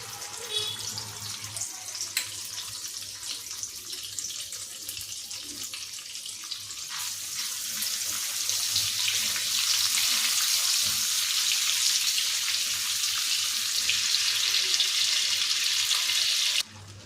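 Ginger-garlic paste frying in melted butter for a dhaba-style butter chicken gravy, a steady close sizzle that grows louder and fuller partway through and holds until it cuts off near the end, with no talking.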